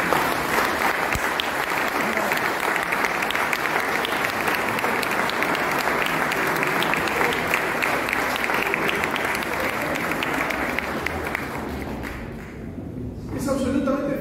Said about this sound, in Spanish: del historiador Guillermo Vázquez Franco, para el que pido un aplauso especial.